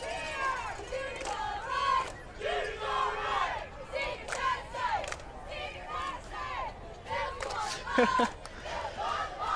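Spectators at a high school varsity football game between Hicksville and Edon keep up a loud, continuous roar of shouting and cheering voices, swelling and dipping in waves throughout.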